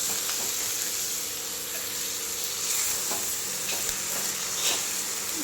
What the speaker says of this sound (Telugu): మంచిగా కలుపుతూ ఉండాలి